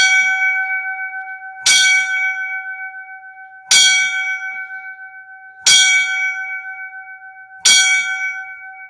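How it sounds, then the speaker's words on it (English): Five slow, evenly spaced bell strikes ring out for line-of-duty deaths, each a bright metallic clang with a long sustained hum decaying between hits, loud and clear with no talking. "So I am going to give the 5 bells for the line of duties."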